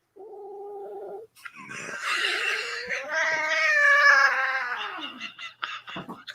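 Two cats caterwaul at each other up close: a short yowl, a pause, then long wavering howls that rise and swell before breaking into choppy, fading cries.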